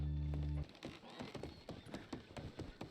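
Horse hooves clop steadily on ground in Red Dead Redemption, a quick uneven run of close, moderately loud thuds after a brief tonal hum, with no talking.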